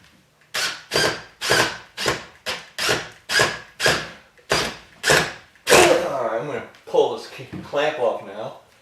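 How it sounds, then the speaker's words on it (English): A power drill drives screws into a wooden bedroom roof truss in a mobile home, in a close, steady series of short, sharp pulses. A voice follows near the end. "I'll go ahead and put some screws to it"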